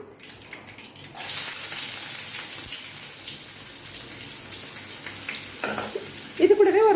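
Chopped onion dropped into hot oil with popped mustard seeds for a cabbage fry sizzles and crackles steadily, stirred now and then, with a faint voice near the end.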